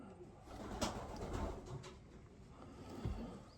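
Young pigeons among a loft's 2025 hatchlings give soft, low cooing murmurs that blend into a quiet, steady room hush, with a couple of slightly stronger pulses and no voices.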